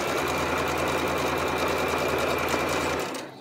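A sewing machine runs steadily, stitching quilt strips at a quarter-inch seam, with a fast even whir throughout that slows and fades in the last moment.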